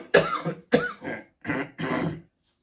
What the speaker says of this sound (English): You will have to bear with my cough.